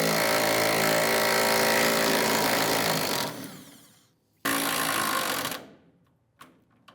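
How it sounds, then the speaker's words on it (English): Power tool running steadily on bolts of a 2000-2006 Toyota Tundra rear bumper with a 12mm socket, a loud continuous whir for about three seconds that fades, then a second one-second burst before stopping. "Using a 12mm socket, I'm going to go ahead and remove these two bolts right here."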